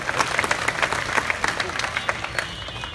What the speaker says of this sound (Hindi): हम तालियां बजाकर ऐसे लोगों का स्वागत करते हैं।